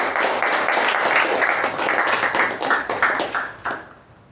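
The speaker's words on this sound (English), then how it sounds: "a great round of applause to both the speaker and the evaluator" Meeting audience applauding a speaker and evaluator, a short burst of steady clapping that tapers off near the end.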